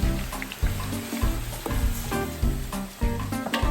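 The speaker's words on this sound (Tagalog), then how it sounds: "simulan na natin mag-isa ng bawang para sa masarap na Texas JC Bagoong" Garlic sautés in a pan for a bagoong dish, giving a close, steady sizzle and frying crackle broken by the rhythmic scrape of stirring.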